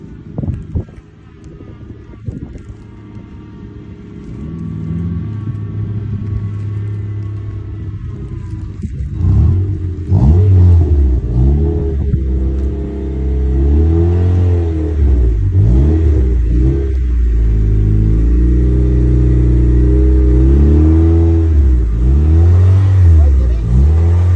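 A race project car's engine rumbles and revs repeatedly, rising and falling in pitch, with people talking over the noise throughout.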